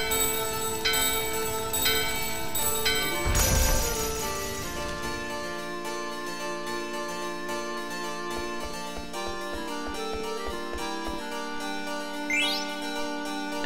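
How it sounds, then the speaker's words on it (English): A bell rings out in Final Fantasy IX's Lindblum, a bright metallic strike with long ringing overtones that decay over a steady game music backdrop, followed by a quick rising chime near the end. "Ring the bell!"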